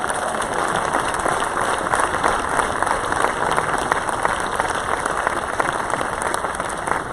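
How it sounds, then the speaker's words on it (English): Dense, sustained applause from a concert audience at a community concert band's 20th anniversary concert fills the hall, a steady wash of many hands clapping with no voices standing out. "So we can give you a little applause for coming back."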